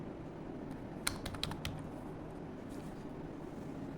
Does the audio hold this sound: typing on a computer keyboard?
yes